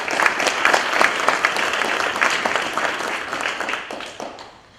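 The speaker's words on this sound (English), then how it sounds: "I do want to give the Chancellor and his team a round of applause" High school audience giving a loud, dense round of applause for a chancellor and his team, continuous clapping that tapers off at the end.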